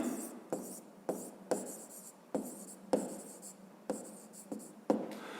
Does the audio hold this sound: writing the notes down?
yes